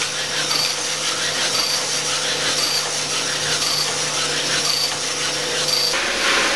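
A cylinder hone runs inside a badly out-of-round Harley-Davidson engine cylinder, making a continuous loud grinding whir with a steady tone and faint periodic scraping, no speech.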